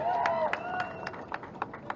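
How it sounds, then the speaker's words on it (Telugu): An audience applauds newly elected councillors with light, rhythmic clapping from a small group, the claps evenly spaced and moderately loud beneath a voice speaking over them. "గట్టిగా చప్పట్లు కొట్టాలి."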